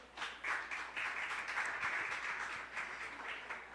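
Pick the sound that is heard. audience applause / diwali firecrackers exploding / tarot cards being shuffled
audience applause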